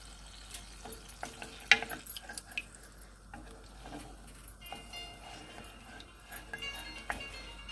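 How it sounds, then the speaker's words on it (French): A tomato and pepper mixture with garlic simmers in a pan for hmiss, giving a faint, steady sizzle under scattered clinks and scrapes of stirring. "Voilà, ça commence à mijoter"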